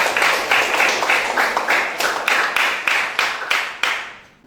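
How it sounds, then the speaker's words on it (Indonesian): A class clapping hands in unison in a rhythmic patterned clap, loud and close, with bursts of claps in regular groups for about four seconds, then stopping. "Oke, tepuk tangan."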